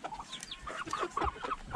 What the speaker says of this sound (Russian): Вот такие вот уже петушки и курочки.